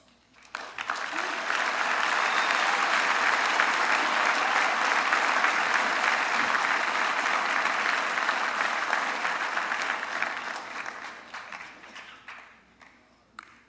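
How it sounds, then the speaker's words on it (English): Mohawk College graduates of the Faculty of Skilled Trades and Engineering Technology applaud at their convocation ceremony, a loud sustained round of clapping from a large crowd that swells quickly, holds steady, then tapers off. "start off by giving yourself a big round of applause"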